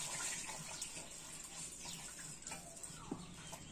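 Rice being washed by hand in water, quiet close sloshing and trickling with a soft splash, faint bird calls in the background.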